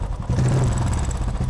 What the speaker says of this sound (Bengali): এই হচ্ছে এখন ইঞ্জিনের সাউন্ডের অবস্থা।